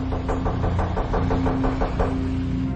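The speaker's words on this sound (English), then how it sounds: "wait to see who knocks on our door" A rapid series of about ten evenly spaced knocks on a door sounds over a constant low electrical hum.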